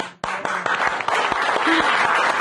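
Studio audience applause on a live Turkish TV show, a loud burst of dense clapping that starts abruptly and carries on steadily, with a voice briefly heard over it.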